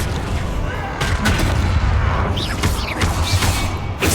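In the Hogwarts Legacy video game, a disarming spell is cast amid combat, with sharp magical bursts, whooshes and booming impacts layered over a loud, dense battle soundscape.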